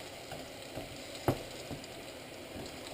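Root vegetables fry in a pan with a steady low sizzle, broken by one sharp utensil clack near the middle and a few softer stirring knocks around it.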